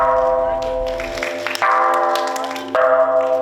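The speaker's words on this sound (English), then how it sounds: "7 excellencies were invited to ring the bell of world peace and love" The bell of world peace and love rings out at a ceremony with heads of state and ministers, each strike leaving a long sustained metallic tone; three strikes sound over a murmur of voices and applause.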